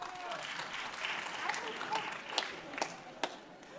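Light applause from a student show audience, fairly faint and continuous, with a few sharper individual claps standing out near the end and some voices beneath.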